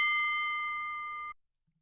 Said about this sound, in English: That is the Bold Enough bell.